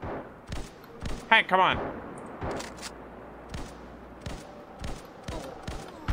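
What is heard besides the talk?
gunfire from a gun in a video game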